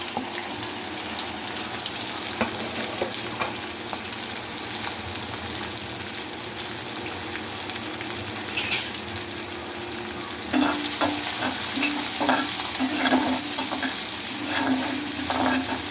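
Chopped onions sizzle and crackle steadily in a hot pan for a prawn fry, the frying growing louder and more spattery after a stir partway through.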